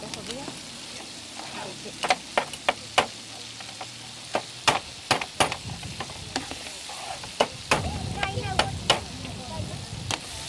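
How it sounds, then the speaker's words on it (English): Raw crab claws being cracked and dropped into a hot pan during a seafood demonstration, with a run of sharp, close cracks and clacks over a soft background sizzle that grows louder toward the end. "Just literally crack them and pop them in"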